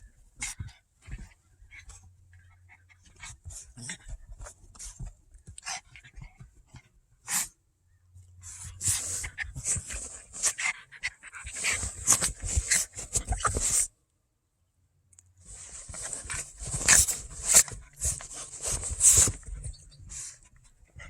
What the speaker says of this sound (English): The puppy girls are playing, wrestling in the car.